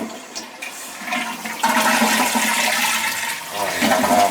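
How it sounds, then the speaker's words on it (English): Leaking toilet flushed, a close rushing swirl of water that builds after a second and a half and keeps gushing steadily to the end, with no talking. "We'll flush it and see what happens."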